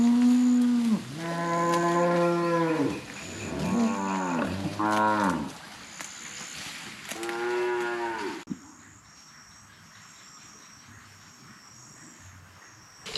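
Several cows low in a pasture field, a run of long, loud moos one after another, some overlapping, before they stop and leave faint crickets and insects chirping in the quiet.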